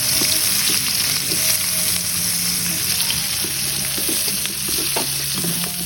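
Garlic and onion sauté in oil left over from frying, with a steady, close sizzle and occasional stirring scrapes throughout, no talking.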